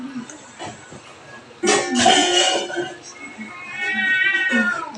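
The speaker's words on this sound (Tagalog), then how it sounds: "May pusa." A cat meows several times at close range, with drawn-out, rising cries and a louder caterwauling stretch toward the end, over soft background noise.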